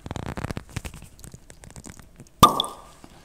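A wine bottle is opened at a meal. The cork pulls free with a single sharp pop after a stretch of quieter fiddling and rustling, close to the microphone.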